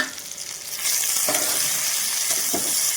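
Tomatoes and cashews hitting sizzling fried onions in a pan, a hiss that swells louder after the first second, with a couple of soft stirring scrapes over the steady frying.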